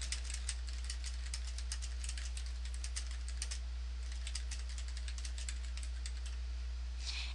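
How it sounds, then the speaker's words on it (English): Close, quiet typing on a computer keyboard, with rapid irregular key clicks in bursts against a low steady hum. "I'm going to go ahead and type my home message in here"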